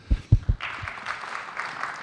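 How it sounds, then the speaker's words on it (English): Conference audience applause at a life science startup summit: a few low thumps open, then a steady, moderately loud patter of clapping from the room carries on to the end. "So thank you very much, and big applause for you."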